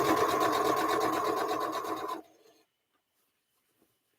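Domestic sewing machine stitching red, white and blue swap quilt blocks around a panel, a loud steady mechanical whirr for about two seconds, then stopping abruptly into near silence.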